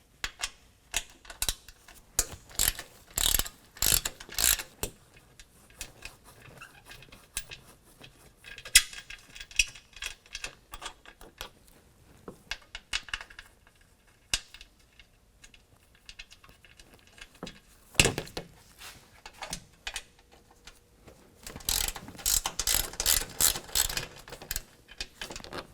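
Ratchet removing 12mm skid plate bolts on a 2022 Toyota Tundra, quick bursts of rapid clicking near at hand, separated by quieter pauses with occasional clunks.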